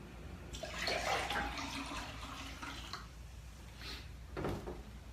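Water is poured into a glass to mix a master cleanse drink with cayenne pepper. The pour is faint and splashy, swelling and easing over a few seconds, with no talking.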